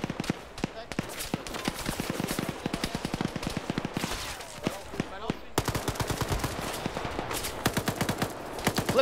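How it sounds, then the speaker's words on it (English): Heavy automatic gunfire rages through a military game battle between Portuguese and MPLA forces, dense rapid bursts of machine-gun and rifle shots cracking continuously and loudly throughout, with faint voices beneath. "we just have a sheer volume of fire coming up to these remaining MPLA forces"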